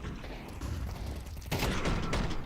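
Rifle fire in the video game Counter-Strike during a professional match, a dense crackle of shots that grows louder and denser partway through.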